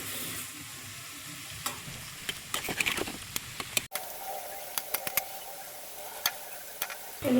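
Mango phulori fritters frying in hot refined oil after being flipped, giving a steady close sizzle with scattered sharp pops and ticks, without any voices.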